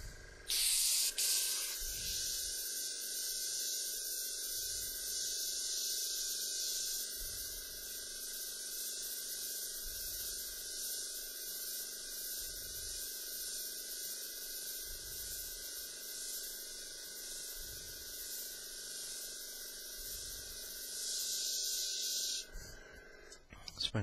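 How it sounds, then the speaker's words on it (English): A spray gun hisses steadily as it sprays thinned black paint, one long continuous spray lasting about twenty seconds, with faint intermittent voice underneath. "Spraying a little bit nicer for me there."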